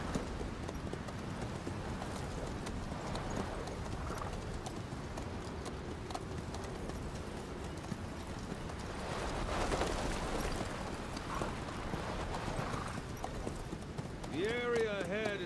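Horse hooves clip-clopping at a steady pace in the video game Metal Gear Solid 5, with voices talking over it and a brief whinny near the end.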